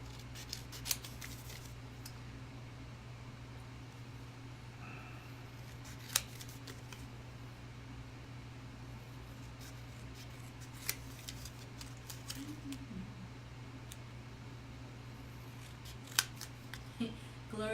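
Scissors snip paper for paper piecing in a quiet room, with a few faint sharp cuts scattered over a steady low hum.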